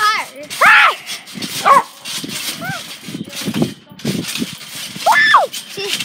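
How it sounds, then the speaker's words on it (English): A dog barks and yips several times in short bursts, close by, with people talking over and between the barks. "She's barking at your phone, Libby."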